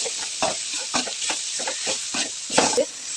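Onion and tomato for a potato kurma sauté in a pan, stirred in quick rhythmic scraping strokes over a soft continuous sizzle, close and without talk.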